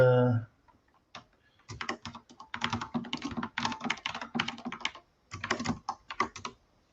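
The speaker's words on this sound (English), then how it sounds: "You have the loudest keyboard on earth." Clicky mechanical computer keyboard typed in quick, uneven bursts with short pauses, loud and close, after a brief voice at the very start.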